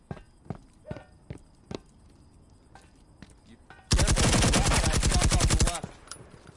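Sustained rapid automatic gunfire from a multiplayer shooter video game, a loud dense burst lasting about two seconds, preceded by scattered single sharp shots and clicks.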